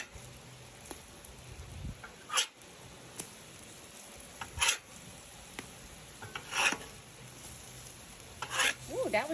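Pumpkin spice French toast fries in butter in a pan outdoors, a low steady sizzle broken every couple of seconds by short scraping strokes of a spatula, close by and without speech.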